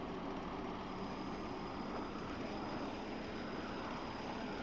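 A Class 101 diesel multiple unit in a train simulator on the Falmouth branch drones with a steady, low engine roar as it pulls away in second gear, constant and unbroken, with no voices.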